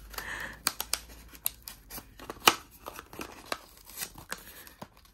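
Plastic packaging holding BTS-themed masking tapes being peeled open, a run of sharp close-up tearing and crinkling snaps with short quiet gaps between them.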